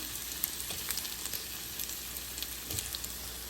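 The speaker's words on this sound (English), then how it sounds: "I'm just adding the potatoes into the hot oil" Potatoes for methi aloo drop into hot oil and fry with a soft, steady sizzle and faint crackles, fairly quiet and close, with no voices over it.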